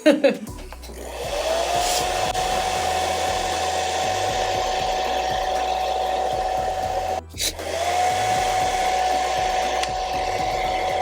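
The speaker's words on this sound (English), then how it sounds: "I'm gonna hit it one more time with the blow dryer." A hair dryer blows steadily at close range on a wig with a constant whining tone, cutting out briefly near the end and then starting up again.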